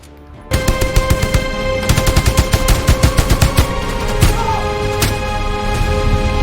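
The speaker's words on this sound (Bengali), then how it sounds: "মেশিন গান ও মর্টার সাপোর্ট ফায়ার চালাও। জি স্যার, ফায়ারিং চলছে।" Machine-gun and mortar fire in a war drama battle scene, with rapid loud bursts of close gunfire through the first few seconds that give way to scattered heavier blasts over a steady background.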